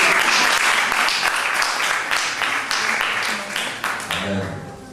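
Warm, sustained applause from a church congregation, dense clapping that fills the room and slowly tapers off, with voices murmuring underneath.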